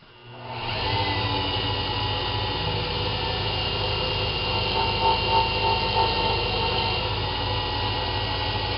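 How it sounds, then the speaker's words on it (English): A wood lathe spins up and turns down the edge of a cork fishing rod handle to form a tenon, giving a steady, close whirring rub with faint scraping throughout. "I'm going to turn my lathe on, and I'm going to turn down just the edge of this to make a tenon."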